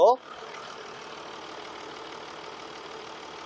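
A brief voice opens, then the diesel engine of a Mercedes-Benz S-Class long-wheelbase sedan idles steadily with a low, even clatter that continues unchanged to the end.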